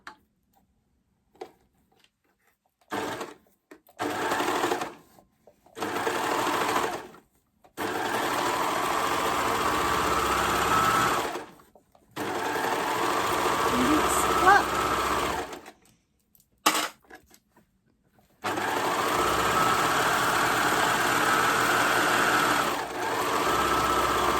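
A sewing machine stitching a seam on a Rockford Raglan top, running in repeated stop-start bursts of steady whirring, some brief and some several seconds long, close and clear with silent pauses between, no talk.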